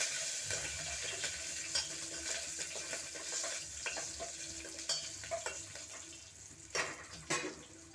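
Garlic and onion frying in hot oil for a tempering, a continuous close sizzle with scattered crackles and scraping stirs, with louder bursts toward the end and no speech.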